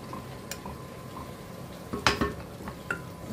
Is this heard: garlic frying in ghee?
yes